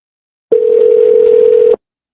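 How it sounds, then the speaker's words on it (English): A phone call sounds a single steady electronic ringback tone lasting just over a second, loud and clean against silence. "It's ringing on my end."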